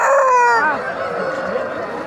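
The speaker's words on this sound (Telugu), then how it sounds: "కోళ్ళు అన్ని రకాలు ఉన్నాయి." A rooster crows loudly and close at a village chicken market, a drawn-out call that fades into a murmur of chickens and people talking around the stalls.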